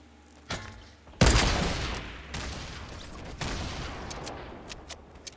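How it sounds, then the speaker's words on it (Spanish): Several loud gunshot bursts in Fortnite: Battle Royale crack and boom at intervals, sharp blasts with rumbling decay, followed by fainter scattered shots. "Por aquí he escuchado también tiros."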